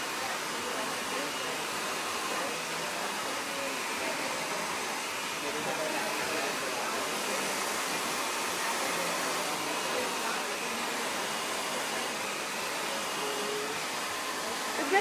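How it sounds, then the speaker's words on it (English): A hair dryer blowing short hair styled with liquid wax, a steady, loud airy whoosh running unbroken for the whole stretch, close by. "as soon as you start blow drying it backward"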